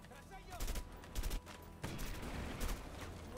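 Bursts of gunfire in the video game A Way Out, several loud volleys in quick succession with rattling shots between them, close and continuous.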